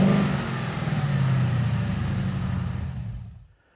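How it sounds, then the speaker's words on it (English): A 2015-2017 Mustang GT engine fitted with a Roush cold air intake and aftermarket exhaust revs loudly, a deep throaty roar with intake rush that holds for a few seconds, then cuts off and fades to silence. "Our exhaust does overpower, but you can definitely hear the Roush intake pulling a lot of air into our engine."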